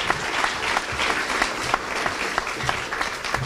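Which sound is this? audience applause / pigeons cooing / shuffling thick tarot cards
audience applause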